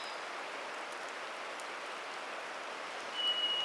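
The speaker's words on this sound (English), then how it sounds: "Raindrops keep falling from the canopy to the forest floor." Rain patters steadily in a forest of redcedars while a stream rushes constantly behind it, forming an even wash of noise, moderately loud and close, with a faint high tone near the end.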